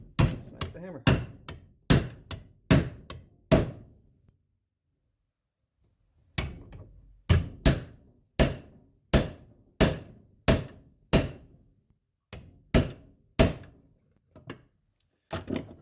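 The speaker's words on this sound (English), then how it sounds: "And I'm going to smack the hammer." A hammer strikes a 13/16 socket placed over the ball joint of a 2012 Polaris Sportsman 850 ATV to press it out. Sharp metallic blows land in quick, steady runs, loud and close, with a brief pause between the two runs.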